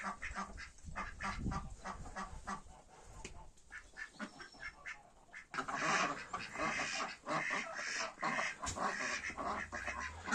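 Indian runner and muscovy ducks on a farmyard smallholding, a dense chorus of quacks and honking calls from a flock close by, continuous throughout and growing louder and busier midway.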